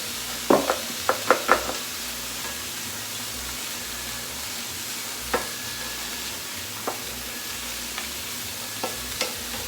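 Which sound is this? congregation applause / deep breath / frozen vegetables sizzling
frozen vegetables sizzling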